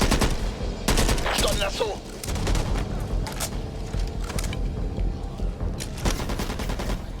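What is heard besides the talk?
machine gun fire in a video game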